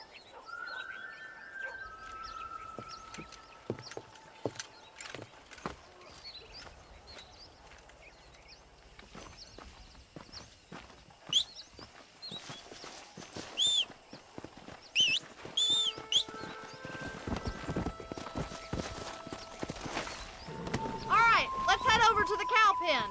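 Horse hooves clip-clop in Red Dead Redemption as a rider sets off herding cattle to pasture, irregular steps growing busier and louder toward the end, mixed with bird chirps and spoken dialogue.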